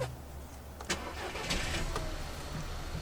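A Land Rover Discovery 3 engine cranks briefly and catches, settling into a steady idle rumble heard from close by, with a few clicks over the running engine.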